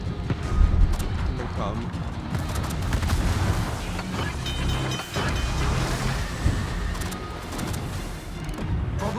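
HMS Hawkins' naval guns fire in World of Warships, dense booming salvos and rumbling blasts rolling continuously, with a voice speaking briefly over the barrage.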